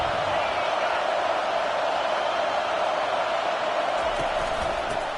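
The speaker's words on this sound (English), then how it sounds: "The roar of the crowd trying to fuel this defense to keep them pinned in their own end." A college football crowd roars in a steady, dense wash of noise filling the stadium, constant and loud throughout with no distinct individual voices.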